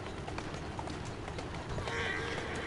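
Horse hooves clip-clopping in the Assassin's Creed Syndicate video game, a steady run of hoofbeats heard fairly close against a busy game background, with a brief brighter sound near the end.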